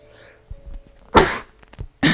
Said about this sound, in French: Éternuement.